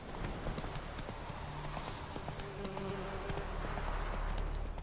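Steady clip-clop of horse hooves trotting at an even rhythm in The Witcher 3: Wild Hunt, fairly quiet, with a faint hum underneath and no talking.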